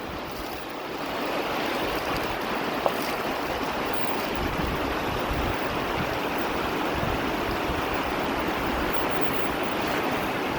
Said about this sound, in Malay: Tempat air berarus tu, air berarus tu.